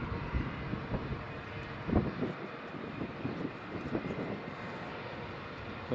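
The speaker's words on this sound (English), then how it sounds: "Got the KLM Sky Team livery E190 coming in from Amsterdam." KLM Embraer E190 jet airliner arriving from Amsterdam at Edinburgh Airport, a fairly faint, steady engine rumble in the distance with wind on the microphone and a few soft bumps.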